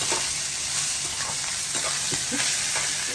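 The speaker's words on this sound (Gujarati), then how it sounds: "દાણા આપણા થોડા પિંક કલરના થઈ ગયા એટલે આ મકાઈનું છીણ એમાં નાખી દો." Grated sweet corn frying in a pan with peanuts, stirred for a sweet corn chevdo, gives a steady close sizzle broken by soft scraping stirs, with no talking.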